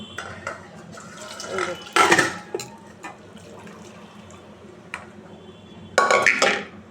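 A cooked dish is poured slowly from a pressure cooker into a bowl in a home kitchen, giving soft liquid sloshing and a few metallic clinks and scrapes, with two louder bursts of pouring.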